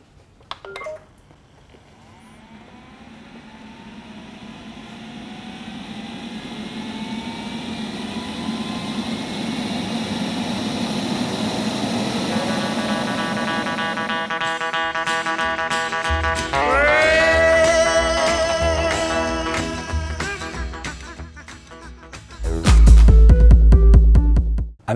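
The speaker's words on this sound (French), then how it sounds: "lorsqu'on lance le système d'aspiration, c'est le plus puissant. On se croirait un peu dans un avion au décollage." A robot vacuum cleaner's suction system spins up into a rising, jet-like roar that builds steadily and stays loud. Electronic beeps and tones follow, and a heavy low thump comes near the end.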